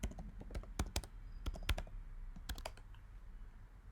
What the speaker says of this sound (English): You may need to type your password.